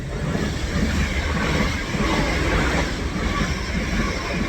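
A train rumbles along a railway line overhead near Linlithgow, a steady, fairly loud roar with a faint rhythmic rattle, heard from just beneath the line with no talking.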